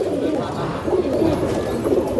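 Racing pigeons coo steadily in a low, throaty chorus, several birds overlapping in repeated soft rolling calls close by, at a flying tournament in Hyderabad.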